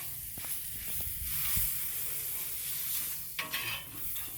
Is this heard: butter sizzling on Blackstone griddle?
yes